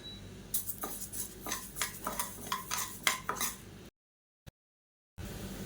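Moong dal roasting in a little hot oil in a pan for chutney, heard as a series of rhythmic spatula scrapes and light metallic clinks over a soft sizzle, then a brief silence before the hiss returns.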